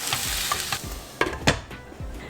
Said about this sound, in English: now I'm just going to go ahead and put the tomatoes in